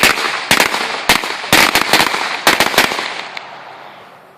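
Fireworks and firecrackers burst outdoors on a smoky day, a rapid string of sharp loud cracks and bangs in irregular clusters, trailing into a fading rumbling echo.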